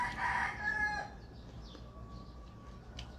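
A rooster crows once near the start, faint and distant in the background of an outdoor setting, then fades into quiet ambience.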